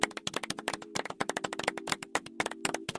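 Hands clap in a quick, irregular flurry of about two dozen crisp, close claps over a faint steady hum, with no voices.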